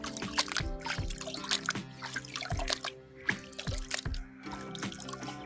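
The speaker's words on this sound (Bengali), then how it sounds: "এইভাবে আমরা আমাদের সবকটি ডালিয়ার টিউবারগুলোকে ধুয়ে ফেলবো।" Dahlia tubers being washed by hand in water, with repeated drips, trickles and small splashes in an uneven rhythm, close and fairly quiet.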